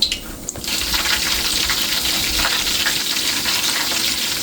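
A breadcrumb-coated fish fillet frying in hot oil, a loud, dense, continuous sizzle heard up close that swells right after the fillet goes in and holds steady.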